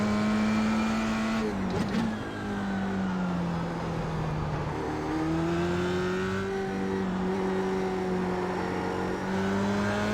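An F3 open-wheel race car at Interlagos in iRacing holds a loud, buzzing engine note that dips as the throttle lifts at a corner, then climbs steadily through the gears with a whining, rising pitch.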